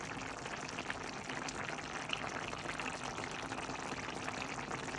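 Broth is poured into a hilsa fish and Malabar spinach curry, giving a steady, close, even wash of liquid noise over a faint simmering hiss that lasts the whole time.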